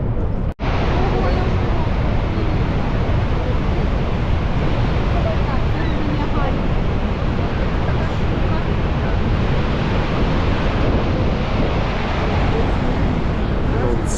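Loud, continuous rushing water with heavy spray at the Niagara Whirlpool roars steadily throughout, close by, with a brief sharp knock near the start.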